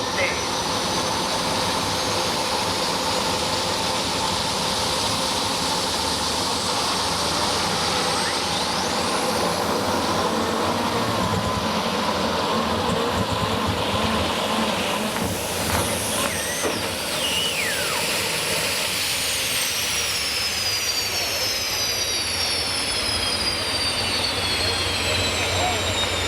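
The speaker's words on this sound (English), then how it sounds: "his engine, it was taking every bit of horsepower those things could generate" Loud, sustained roar of a 1960s-era pulling tractor engine straining at full horsepower during a tractor pull, a steady broadband drone that persists through the whole stretch with rising whines and surges partway through.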